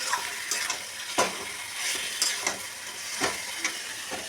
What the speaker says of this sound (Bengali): একটু ভালো করে নাড়িয়ে চাড়িয়ে তেলের সাথে চিকেনটাকে মিক্স করে দিচ্ছি।